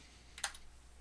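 A quick, faint burst of a few keystrokes on a computer keyboard while a time is entered into an Excel spreadsheet, isolated in a quiet room.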